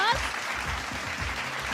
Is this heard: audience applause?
yes